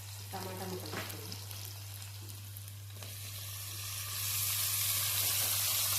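Tomato pieces frying in a pan for egg curry crackle and sizzle over a low steady hum, with a couple of knocks early on and the hiss swelling louder in the last couple of seconds.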